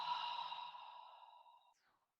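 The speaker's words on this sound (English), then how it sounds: "Take a big, deep inhale. Big, deep exhale." A long, deep breath out through the mouth during a guided yoga and meditation class: one soft, breathy exhale that gently fades over about two seconds, close to the microphone.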